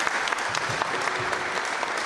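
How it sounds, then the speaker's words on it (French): Audience applause at a public debate, a brief continuous burst of crowd clapping, fairly even and moderately loud, with no talk over it. "Applaudissez-le, s'il vous plaît."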